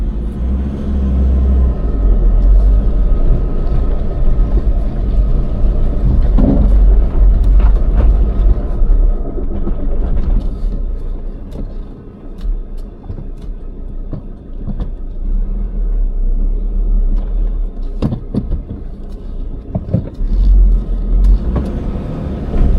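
A four-wheel drive vehicle grinds along a rough, rainy mountain road, its engine a loud continuous low rumble with occasional knocks and jolts and no talk.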